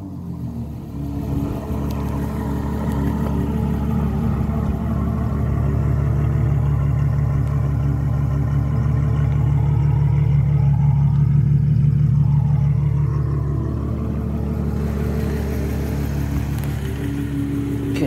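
Ferrari FF 6.3 V12 revving while parked: a loud, deep engine note swells up, holds a sustained high-rev roar for several seconds, then falls back toward idle, close and with no talk.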